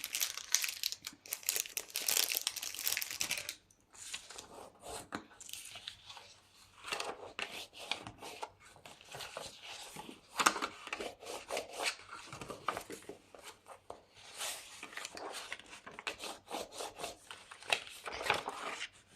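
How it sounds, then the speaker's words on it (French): Paper being folded and creased by hand to make an Easter box, close crinkling and rubbing sounds in uneven bursts with brief pauses, no voices. "on va faire un pli à 7, 14, 21 et 28. Donc, on va marquer les plis."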